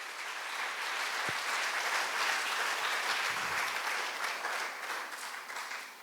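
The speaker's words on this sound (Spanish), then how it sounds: "Denle un aplauso al Señor." A congregation at a Brooklyn church revival service claps in praise. The sustained, even wash of applause from many hands carries on throughout at moderate distance.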